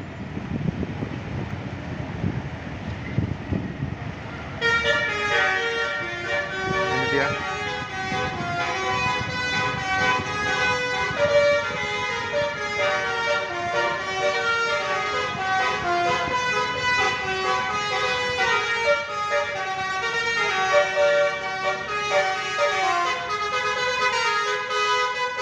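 A Restu Banda Jet Patas bus on the Surabaya–Ponorogo route plays its musical telolet horn at Purabaya bus terminal, a long, loud, repeating melodic tune over engine and terminal noise.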